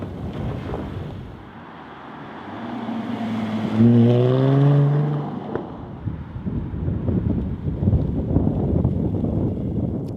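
A Jaguar F-Type sports car, V6 roadster or V8 coupé, drifting, its engine note sweeping upward in rising harmonics mid-pass before fading into wind and road rumble, fairly close and without any talk.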